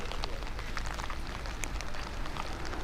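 Heavy rain pours down in a steady, dense hiss on surfaces outdoors, loud and continuous throughout with scattered sharper drop impacts and no talking.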